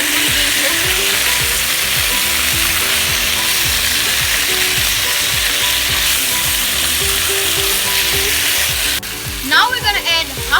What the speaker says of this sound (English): How quickly the beef has been browning is because of the hot wok and the sugar.